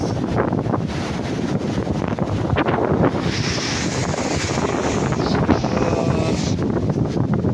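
Strong sea waves surge and crash against the shore in a continuous roar, mixed with heavy wind buffeting the microphone, loud and close with no talking.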